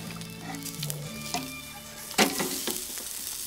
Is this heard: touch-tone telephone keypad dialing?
no